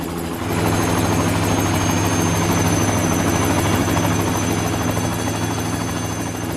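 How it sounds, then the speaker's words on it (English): Loud, steady rotor thump and engine drone of three Llama helicopters in flight, constant and close throughout. "a fleet of 3 Llama helicopters take to the air."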